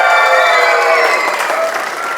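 Audience at a dance show inaugural ceremony applauding and cheering loudly throughout, a dense continuous wash of clapping with excited voices and whistle-like tones mixed in.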